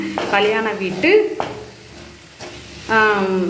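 Mango pickle with fenugreek powder being stirred and fried in a pan, close and loud: a spoon scrapes and clinks against metal in short strokes over a steady sizzle.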